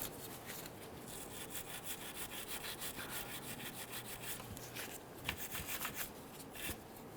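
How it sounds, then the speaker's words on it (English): A bristle brush scrubbing rust off a shaft during a 2006-2010 Hummer H3 neutral safety switch replacement, giving quiet, steady back-and-forth rasping strokes up close with a few sharper scrapes. "After using our bristle brush for a little bit, we do have quite a bit of a rust ridge on this here"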